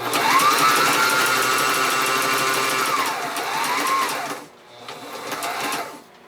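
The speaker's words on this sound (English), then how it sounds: "We'll set it under the presser foot, and I have the machine set up for just a straight stitch, no zigzag, and a fairly long stitch" Sewing machine running a long straight stitch along a fabric seam, a loud close motor whir with rising and falling speed, a brief stop, then another short burst of stitching.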